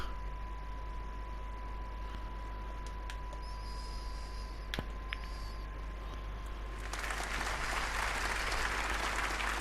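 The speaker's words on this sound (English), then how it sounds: "another warm round of applause" Steady applause from a snooker crowd after a shot, a continuous patter of clapping that swells louder toward the end, with faint tones and clicks underneath.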